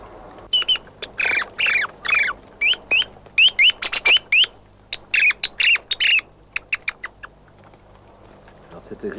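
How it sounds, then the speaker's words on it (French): A thrush gives a rapid series of harsh, squealing distress calls up close, bursts repeating irregularly before trailing off. "une grive un peu exceptionnelle, qui fait le cri au secours qu'on appelle le sambi"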